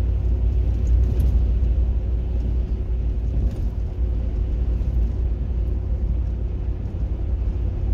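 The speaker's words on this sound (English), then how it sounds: "this truck here is pushing that car at 47 miles an hour right now." Truck driving at about 47 mph on a northern Maine road while pushing a car ahead of it, giving a constant low road rumble and drone heard from inside, steady throughout with no talk.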